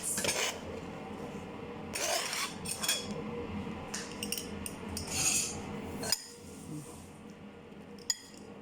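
A utensil stirs dipping sauce mixed with chili, giving a series of scraping, clinking strokes against a dish, close and moderately quiet, ending with a couple of sharp taps.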